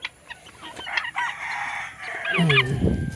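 Several turkeys call near the microphone, a run of short clucking notes followed by a louder gobbling burst at the end, with no talking.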